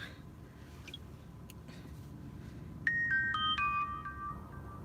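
A mobile phone ringtone chimes about halfway through, a bright melodic sequence of tones rising over a steady background hiss, fairly close and alone with no talk.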